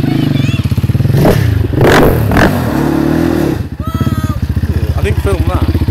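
A motorbike churns through deep flood water, its engine revving loudly over splashing and a rushing bow wave, with voices shouting nearby.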